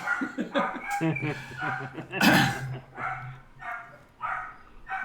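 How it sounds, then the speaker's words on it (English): A dog barks repeatedly nearby in short yipping bursts, partly whimpering, mixed with a person talking and chuckling over it. "my dog's barking"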